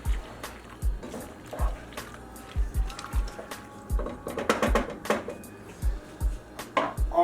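Colby Jack cheese being stirred into macaroni in a pot on a stovetop, a run of repeated thick, wet squelching strokes at a steady rhythm, close and fairly loud, with no voices.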